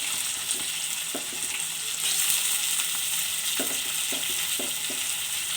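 Onion, tomato and garlic sautéing in a pan give a steady, close sizzle throughout, broken by a few scraping stirs of a utensil; no one speaks.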